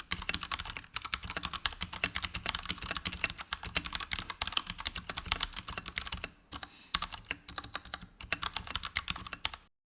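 Rapid typing on a Royal Kludge mechanical keyboard gives dense, close clacking keystrokes in a steady stream, with a brief pause near the end, and no voices.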